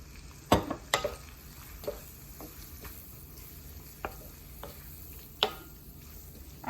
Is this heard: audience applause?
no